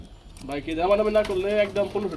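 Short-faced pigeons coo in soft, throaty, repeated murmurs, close by, with a continuous warbling quality.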